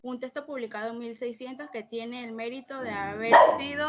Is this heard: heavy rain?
no